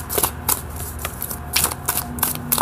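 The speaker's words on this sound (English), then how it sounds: "I'm going to shuffle the cards because that wasn't even supposed to be part of the spread." A deck of tarot cards is shuffled, giving repeated crisp riffling bursts in a quick uneven rhythm, close and fairly loud, with no speech.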